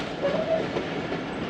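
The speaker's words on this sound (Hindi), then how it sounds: "12:56 पर दोस्तों ट्रेन इंटर हो रही है लाला मूसा जंक्शन" The Jaffar Express rolls into Lala Musa Junction with a steady, moderately faint rumble and hiss of the moving train, heard continuously with no voices over it.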